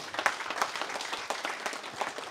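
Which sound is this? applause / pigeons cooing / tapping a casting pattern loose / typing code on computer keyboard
applause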